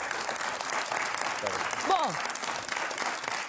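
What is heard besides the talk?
studio audience applause welcoming a guest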